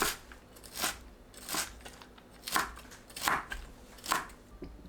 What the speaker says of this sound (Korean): 콩나물을 1cm에서 2cm 길이로 썰어 줍니다